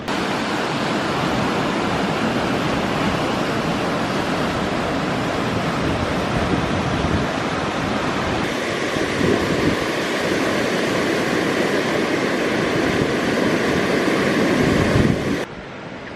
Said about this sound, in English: this one is nice because it's got some waves